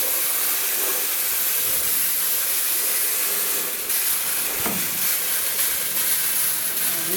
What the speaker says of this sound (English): we just want to spray this down.